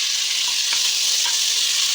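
Onions with green chilies fry in a pan for vegetable biryani, giving a steady close sizzle with faint crackles and a soft stirring scrape, and no voices.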